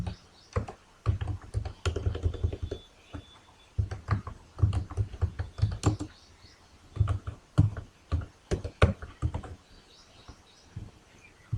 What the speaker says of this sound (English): Please type your locality.